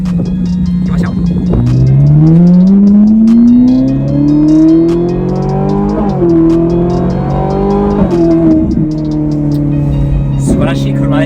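A Liberty Walk-bodied Ferrari 458 Italia with a naturally aspirated engine is heard from close by while driving. The engine note climbs steadily through the revs, drops at gear changes and surges again, loud and sustained throughout.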